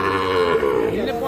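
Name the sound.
Sahiwal breed bull calf lowing at cattle market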